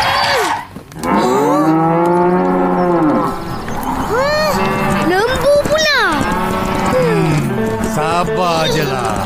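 An animated cartoon cow gives long, drawn-out moos, loud and close, repeated several times with rising and falling pitch.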